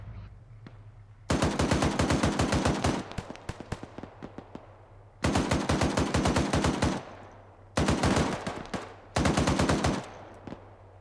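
Machine gun fire in a military video game, four loud close bursts of rapid rhythmic shots, each lasting one to two seconds, separated by quieter gaps with a low engine hum and scattered single shots.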